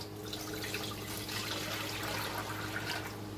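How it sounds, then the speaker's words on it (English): Seven cups of water pour steadily into a large pot for a batch of zucchini dill relish, a soft continuous splashing rush under low kitchen hum. "we're going to add 7 cups of water."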